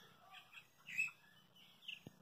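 Small birds chirp at dawn on a ranch, scattered faint tweets and short calls from a distance over a quiet background, with one brief low thump near the end.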